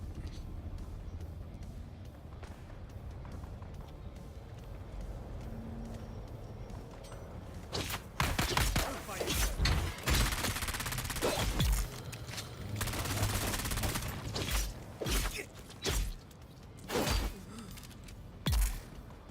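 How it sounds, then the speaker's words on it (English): Sniper fire in the video game Dune, sharp gunshots and bursts cracking out in clusters over game ambience in the second half, fairly loud and close, with a person talking at times. "And there is a sniper still trying to snipe me."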